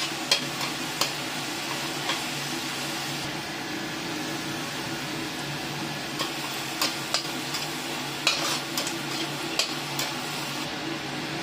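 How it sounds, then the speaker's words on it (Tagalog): Onion and garlic fry in a pan with a steady, close sizzle, broken by intermittent clicks and scraping taps from stirring. "Then magpa-fry tayo ng onion and garlic."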